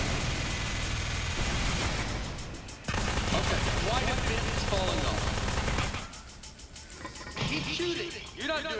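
Rapid bursts of toy gun fire from the Aperture Desk Job video game crackle loudly and densely through most of the stretch, broken by brief lulls, while game characters talk over the shooting.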